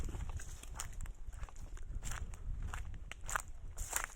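Quiet, regular footsteps crunch over rough outdoor ground at a steady walking pace, close by, with no talking.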